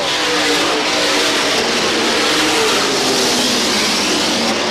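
Race cars roar past at Star Speedway in 1991, a loud, continuous engine drone with revving pitch shifts from several cars racing close together, with no voices over it.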